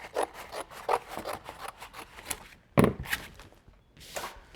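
Cereal box cardboard trimmed with scissors, close up, with a run of rapid rasping snips, a louder cut near the middle and a few more snips after a short pause.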